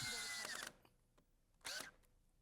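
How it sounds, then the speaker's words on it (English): A power drill bores clearance holes for 3-inch rust-resistant deck screws in a dog house frame, with two short, close whirring bursts separated by a near-silent pause with faint clicks. "drills clearance holes for 3-inch rust-resistant deck screws, which will hold the frame together"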